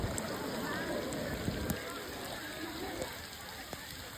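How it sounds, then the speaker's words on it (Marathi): Rain falling outdoors near a waterfall, a steady, fairly faint hiss of drops with a few louder patters scattered through. "मस्त पाऊस चालू आहे"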